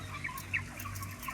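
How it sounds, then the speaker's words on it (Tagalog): A backyard pet chicken gives a few soft clucks and short chirpy calls, close and moderately quiet over a low steady hum, with no talking. "Ayan ang alaga ko po na manok."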